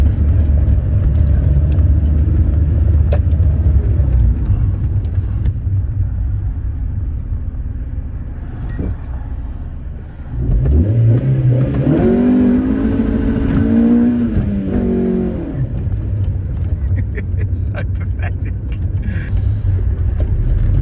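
A Honda-powered 1990s Rover Coupe drives hard, its engine droning loudly and steadily, then it winds up through a rising, revving acceleration midway before settling back into a sustained road roar.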